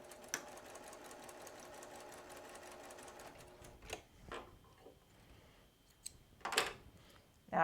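A sewing machine stitches a log cabin quilt block, running in a fast steady mechanical whir for about four seconds, then stopping, followed by a few quiet clicks and handling noises close by.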